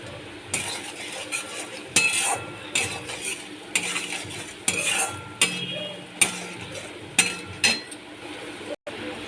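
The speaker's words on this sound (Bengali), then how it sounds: "আগে থেকে ভেজে রাখা আলুগুলো আমি দিয়ে দিচ্ছি" Pre-fried potatoes go into a pan of rohu fish curry with cauliflower, with a string of sharp clinks and scrapes of a spoon against the pan over a soft sizzle, some close and loud, and a voice talking at times.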